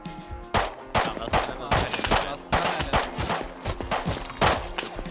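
Rapid bursts of gunfire in a shooter video game crack out close and loud. Shots come in fast, uneven volleys with short gaps between them.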